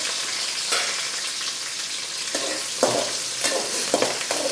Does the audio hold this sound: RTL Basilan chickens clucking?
no